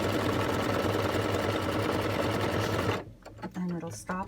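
A sewing machine runs steadily, stitching down a placement stitch for a Halloween project, its rapid even needle rhythm close and loud for about three seconds before it stops and a voice speaks briefly.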